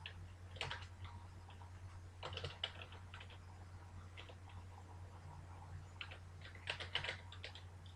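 Soft clicks of typing on a computer keyboard come in short irregular bursts over a low steady hum, quiet and close.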